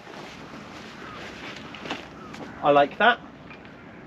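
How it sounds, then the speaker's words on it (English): Wind rushes and buffets a microphone outdoors in snowy weather by a Mirror dinghy with its sails rigged. Gusts rise and fall under background noise, and a person speaks briefly near the end. "Of course the wind's just got up, now we're trying to do this."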